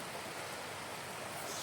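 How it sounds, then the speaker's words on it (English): A small stream waterfall on a spring hillside walk near Catbells above Derwentwater gives a steady, close rushing hiss of falling water, even and continuous with no other sounds. "This little waterfall."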